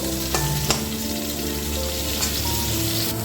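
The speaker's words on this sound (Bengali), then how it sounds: "এটাকে একটু নাড়াচাড়া করে ভেজে নেব" Cauliflower florets frying in oil for a Bengali cauliflower roast crackle with a continuous bright sizzle, broken by a few sharp scrapes and clacks as a spatula stirs them in the pan, close and with no talking.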